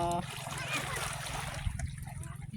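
People wade and splash in shallow sea water at Karanan Beach in Bicol, with light splashing and trickling close by under faint background voices.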